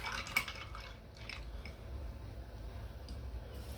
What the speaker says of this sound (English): stir the syrup in